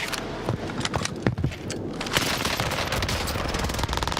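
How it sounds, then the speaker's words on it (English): Rapid automatic fire from a UMG machine gun in Call of Duty Warzone, a dense, loud, continuous stream of shots across the whole stretch with a few sharper cracks near the start. "that like recoil on that fucking NMG, the UMG, dude, is bloody insane"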